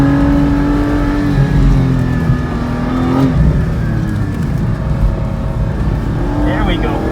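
Porsche GT4 pushed hard around a tight autocross course at Sonoma Raceway, engine loud and close with rising and falling revs through the turns, people talking over it throughout.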